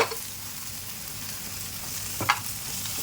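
Green peas and dry spices frying in a hot pan, a steady soft sizzle throughout with a couple of brief utensil clinks near the end.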